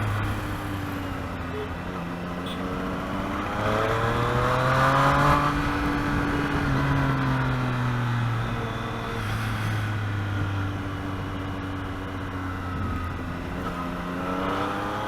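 Triumph Street Triple 765 motorcycle engine revving up through the rev range on the road, a steady rising and falling engine drone with shifting pitch, continuous and fairly close, with wind noise and no talk.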